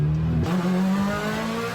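BMW M3 GT race cars, a V8 revving to about 9,500 RPM, scream past on track with a loud, sustained engine note that shifts pitch partway through.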